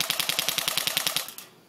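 An MP5 airsoft gun fires a rapid automatic burst of about a dozen sharp, evenly spaced cracks, close and fairly loud, outdoors in snowy conditions, then stops with a short fading tail.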